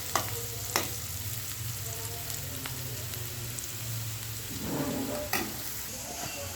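Food sizzles and crackles in a hot pan, a continuous frying hiss broken by a few sharp clinks of stirring; no voices.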